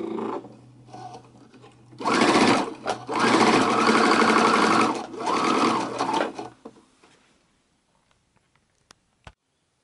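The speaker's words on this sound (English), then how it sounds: "I'm going to just sew across the strap a second time" A sewing machine stitches across a messenger bag strap to reinforce it, whirring loudly in two close bursts before stopping, followed by a few small clicks and near silence.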